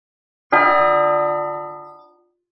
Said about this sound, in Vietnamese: Một ngày này tiếng chuông vang vọng tu di sơn, lan ra không biết bao nhiêu vạn dặm